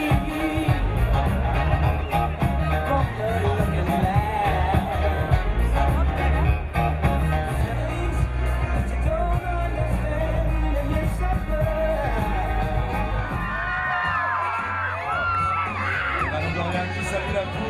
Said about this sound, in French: les cris de la foule